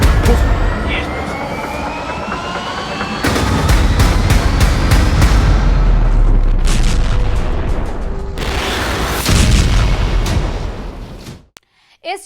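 Missile launch and explosions at a military exercise, a sustained loud roaring rush with heavy booms and rumbling, bursts of crackling blasts, then an abrupt cut near the end.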